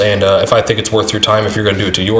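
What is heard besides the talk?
No everyday noises stand out.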